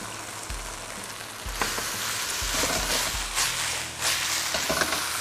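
Celery hitting a hot pan of tofu stuffed with pickled mustard greens, thickened with starch slurry, and sizzling steadily. A loud, close frying hiss continues throughout, with a few stirring knocks.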